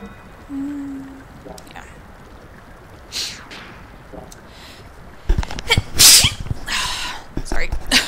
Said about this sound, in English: Knew I was gonna sneeze.